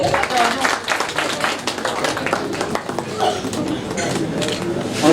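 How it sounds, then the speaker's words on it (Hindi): Audience applause at an Indian awards ceremony, the India's Star Talent Award 2022, a dense steady wash of many hands clapping for several seconds, with voices murmuring underneath. "जोरदार तालियां तनुश्री मैम के लिए"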